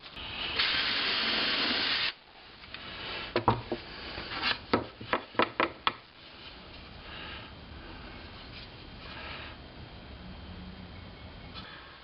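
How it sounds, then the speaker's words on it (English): A drill countersinks screw holes in a wooden board for a homemade camera tripod, starting with a loud sustained whine, then a rapid series of sharp bites and clunks before settling into quieter handling noise. "All these other screw holes, the ones that are going to attach the leg holders, get countersunk from the other side of the board."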